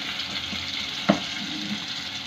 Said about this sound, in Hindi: ये देखिए अभी जो है ना इसको बॉयल आ रहा है।